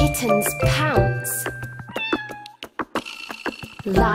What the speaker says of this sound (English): Kittens pounce.